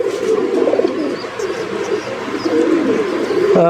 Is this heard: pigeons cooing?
yes